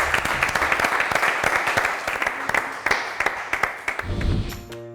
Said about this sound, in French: Merci d'applaudir bien fort Delphine Vespizer.